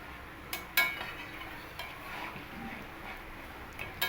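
Spoon stirring a taro curry (gathi kochu) in a cooking pot, with a few light metallic clinks and scrapes against the pot over a quiet simmer.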